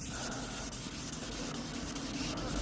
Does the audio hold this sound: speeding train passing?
no